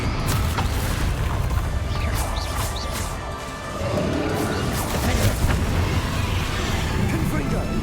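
A Confringo fire spell blasts in Hogwarts Legacy as a loud explosive boom with crashing debris, followed by further impacts and rumbling battle noise.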